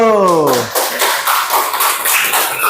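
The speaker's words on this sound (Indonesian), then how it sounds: "Tepuk tangan dulu." Classroom clapping as a group of students applauds together during an English lesson, a dense steady patter of hands following a brief voice at the start.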